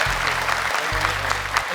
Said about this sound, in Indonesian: Tepuk tangan untuk Aska, terima kasih